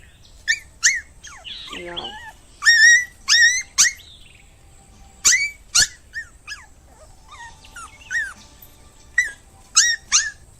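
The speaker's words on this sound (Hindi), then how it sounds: "रास्ते में वो देखता है कि कुछ कुत्ते और गाय रोड पर बैठे हैं।" Dogs on a road give high, sharp yelps and whimpers in uneven bursts, with one longer whining cry, all fairly close and clear against a quiet background.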